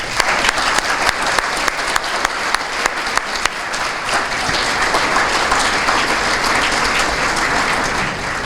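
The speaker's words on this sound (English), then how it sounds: "Let's give them a hand of applause." Audience applause at a small business awards ceremony, a large crowd clapping loudly and continuously, a few sharp nearby claps standing out at first before settling into a steady roar.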